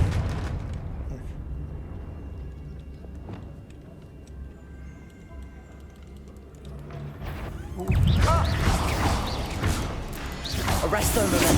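Confringo blasting spell in Hogwarts Legacy: a rumbling roar builds beneath game sounds, then a heavy explosive burst erupts and rolls on loudly, broad and close.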